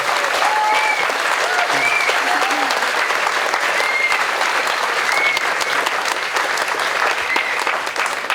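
A crowd at an outdoor Pride event in Totnes, Devon, applauding steadily throughout, with a few whistles rising over the continuous clapping.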